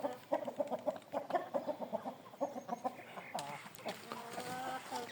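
A broody hen in a poultry yard clucking in quick repeated bursts, fairly close and clear, with softer chick-like peeps and a brief low murmur toward the end.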